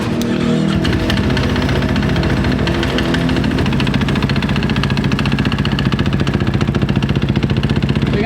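An AT&T race car's engine is running at a loud, close idle. It gives off a rough, rapid lumpy pulse and stays steady throughout with no talk over it.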